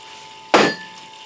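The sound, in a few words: check ball rattling inside 4R70W transmission piston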